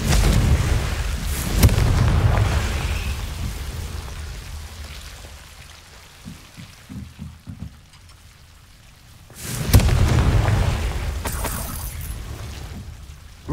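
A Confringo fire spell explodes in Hogwarts Legacy, each cast landing as a loud booming blast with a rumbling roar, two big bursts separated by quieter crackling and thuds.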